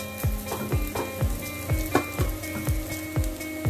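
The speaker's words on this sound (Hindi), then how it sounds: "लेकिन हम सैलो फ्राई कर रहे हैं तो इसमें बहुत ही अच्छा लगता है" Food shallow-fries in a pan with a loud, continuous close-up sizzle, broken by regular rhythmic taps and swooshes roughly twice a second as it is stirred or moved. No one talks.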